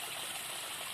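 Spring water flowing on a farm: a steady, even rush of running water, fairly faint and continuous, with no voices over it.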